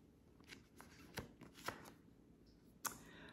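A few soft, quick card flicks and taps as a tarot deck is cut by hand, faint and close, with short irregular bursts spread over a few quiet seconds.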